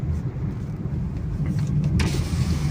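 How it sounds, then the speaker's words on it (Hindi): A car travels along a road in a housing society on Raiwind Road, Lahore, with a steady low engine and road rumble heard from nearby and a faint mechanical whir near the end, no voices. "ये जी यहाँ पे थोड़ा गाड़ी रोकें जी।"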